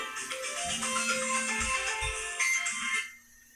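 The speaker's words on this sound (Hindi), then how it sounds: "1 मिनट में साइलेंट कर दूं फोन" A mobile phone ringtone plays a bright electronic melody, clear and close, running for about three seconds before stopping abruptly.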